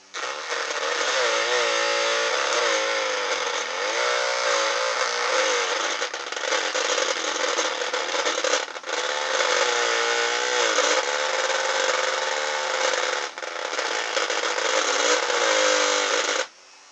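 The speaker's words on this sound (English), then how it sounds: "I can use the fan blade, it's a soft blade, to actually flick the propeller" A soft electric fan blade flicks the propeller on a small electric motor used as a wind generator, making a continuous loud buzzing, rattling whir that wavers in pitch and briefly dips a few times before stopping abruptly.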